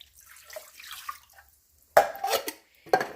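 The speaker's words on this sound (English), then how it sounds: "So I'm going to pour this whole can of chicken broth." A whole can of chicken broth pours into a cooking pot in a short splashing gush after faint trickling and small drips, followed by a second brief splash; no voices.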